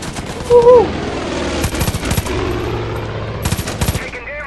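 Rapid automatic gunfire in the video game Far Cry 5 crackles in bursts, a sharp volley near the start and more clustered shots toward the end, with game noise and a voice underneath.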